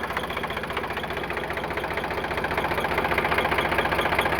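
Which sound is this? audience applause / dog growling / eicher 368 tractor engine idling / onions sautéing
eicher 368 tractor engine idling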